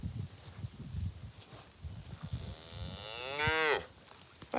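Cattle in a paddock: soft rustling and shuffling, then one loud, drawn-out moo rising and falling near the end, with wind-like background noise throughout.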